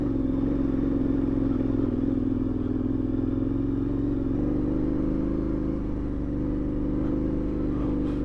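KTM 1090 Adventure R motorcycle ridden alone over slippery tracks and rocky hills, its engine a steady, close, loud drone throughout with faint clatter and no talking.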